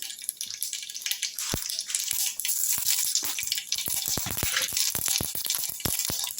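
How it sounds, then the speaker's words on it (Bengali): Mustard seeds tempering in hot mustard oil: rapid sharp pops and spatters crackle irregularly over a steady sizzling hiss, close and fairly loud, growing busier as the seeds heat. "সর্ষের তেলটা যখন একটু গরম হয়ে এসছে তখন তার মধ্যে দিয়ে দিচ্ছি একটু সর্ষে ফোড়ন"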